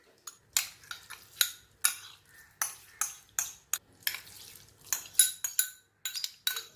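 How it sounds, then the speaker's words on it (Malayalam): A spoon clinks and scrapes again and again against a bowl as colored sago pearls are stirred into a chilled jelly dessert mixture, giving a close, irregular run of sharp metallic taps with no talking. "ഇനി നമുക്ക് ഈ ഓരോ കളർ ചവ്വരിയും ഇതിലേക്ക് ഇട്ടിട്ട് മിക്സ് ചെയ്ത് കൊടുക്കാം."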